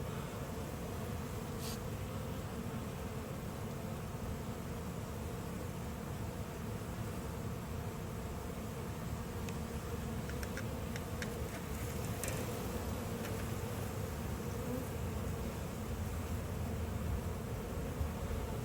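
A dense, steady buzzing of many honeybees close by at an open hive during an inspection, faint and continuous, with a few sharper ticks and rustles scattered through it.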